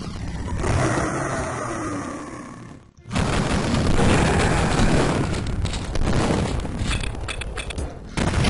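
Video game explosions and gunfire from Duke Nukem 3D, loud dense blasts and crackling bursts that drop to a brief near-silence at about three seconds before another heavy roar of fire and detonations.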